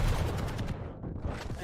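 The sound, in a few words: rocket launcher fire in video game Quake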